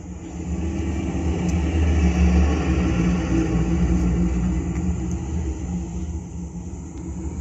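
Bus driving on a road trip through Las Vegas, Nevada, a continuous heavy low engine rumble with road noise, steady and fairly loud throughout.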